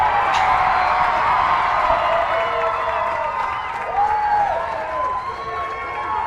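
Crowd at a race track shouting and cheering together in loud, sustained waves, rising and falling voices with occasional whoops, a dense roar close by.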